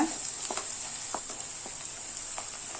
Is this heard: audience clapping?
no